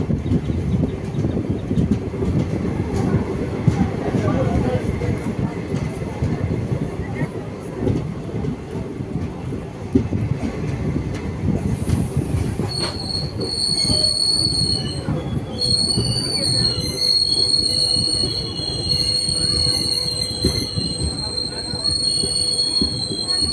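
Intercity Express 15603 rolls through a small rural station, a loud steady rumble of wheels on rail with sustained high metallic wheel squeals joining midway and continuing to the end.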